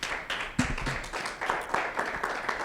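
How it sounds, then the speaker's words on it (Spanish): Congregation applause at a prayer meeting: a burst of clapping from a gathered crowd that rises quickly, holds steady for a few seconds and stays moderately loud, with no talking over it. "¿Le puede dar un aplauso al Señor?"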